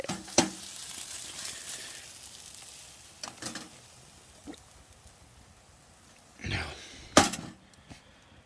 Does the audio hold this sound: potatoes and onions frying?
yes